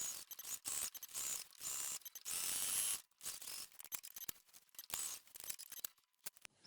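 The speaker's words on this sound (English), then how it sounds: "I'm just going to stitch all the way around." A domestic sewing machine stitches a pocket bag to a garment front with a 3/8 inch seam allowance. Close, rapid mechanical whirring comes in short start-stop bursts with brief pauses between runs. No one speaks.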